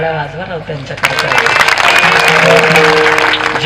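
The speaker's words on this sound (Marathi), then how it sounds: "टाळ्या वाजवा राव त्यांच्याकडे।" An audience claps at a kirtan during the Bhalegaon Bazar yatra festival. After a spoken line, dense, sustained applause breaks out close by while a voice carries on over it.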